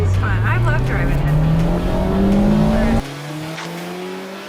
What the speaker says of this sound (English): Look at Ashley taking those turns in the 2023 Mazda Miata